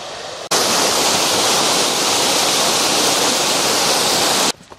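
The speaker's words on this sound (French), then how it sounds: "Ah oui, je la vois, la cascade." A waterfall in Skuleskogen national park roars as a steady, loud rush of broadband water noise that starts abruptly and holds evenly for about four seconds before cutting off.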